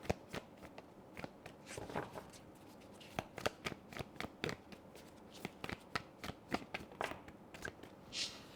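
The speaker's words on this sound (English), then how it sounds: "while I was shuffling" Tarot cards are shuffled up close in quick, uneven bursts of crisp riffling clicks and slaps, with no talking.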